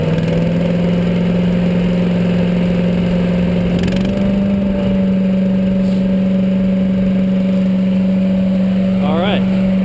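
Chipper shredder powered by a 6.5HP 212cc Predator engine, running at high RPM with a steady loud droning hum throughout, near and continuous.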